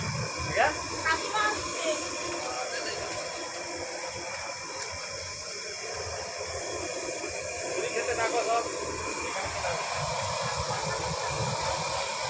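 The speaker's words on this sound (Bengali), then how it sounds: "আলু ভাজা হচ্ছে" Potatoes fry in hot oil with a steady, broad hiss at a busy home temple gathering for Buddha Purnima, with voices and crowd chatter throughout.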